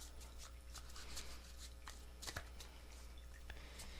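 Tarot cards being shuffled, a run of soft papery riffles and light flicks close by, irregular across a few seconds, with no talking.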